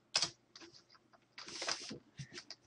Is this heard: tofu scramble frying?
no